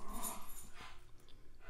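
Puppies whimpering and yipping at play indoors, a few short high whines and soft squeaks over a quiet background, brief and close.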